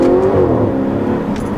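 A 2013 Audi RS5's naturally aspirated engine revs out loudly and continuously at close range, a steady high-pitched roar with no talking.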